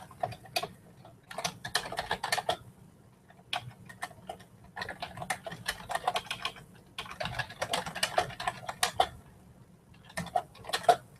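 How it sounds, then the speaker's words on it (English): Bursts of typing on a computer keyboard, quick clustered key clicks in uneven runs separated by brief pauses, close and fairly quiet with no talking. "I can type in"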